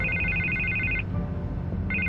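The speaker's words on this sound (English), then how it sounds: "I can't get the phone to stop ringing." A telephone rings in the Batman: The Telltale Series video game, its electronic trill going for about a second, breaking off, then starting again near the end, loud over a low rumbling game background.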